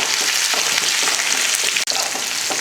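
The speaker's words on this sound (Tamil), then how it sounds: "அடுத்து ஒரு 10 போல் சின்ன வெங்காயத்தை இது போல் நல்லா சின்ன சின்னதாக வெட்டியிருக்கேன். அதையே சேர்த்து நல்லா வதங்கட்டும்." Small shallots sautéing in hot oil with cumin, fenugreek and mustard seeds, a loud, close, continuous crackling sizzle with a brief dip near the end.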